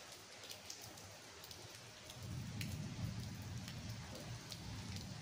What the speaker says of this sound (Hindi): ये देखिए बारिश हो रहा